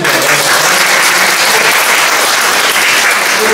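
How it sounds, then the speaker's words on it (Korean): A book concert audience bursts into loud, dense applause that fills the whole stretch as a steady roar of many hands close by, with no one speaking over it. "박수 한번 주시고요"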